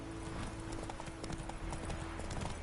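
Roach, Geralt's horse in The Witcher 3, gallops in a steady rapid clip-clop of hooves over a constant ambient bed, close and continuous with no talking.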